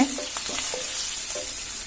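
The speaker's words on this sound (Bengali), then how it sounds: "মাছগুলোকে আমি উল্টিয়ে উল্টিয়ে পাল্টিয়ে ভেজে নেব" Hilsa fish frying in oil, a steady bright sizzle close by with soft scraping as the pieces are turned.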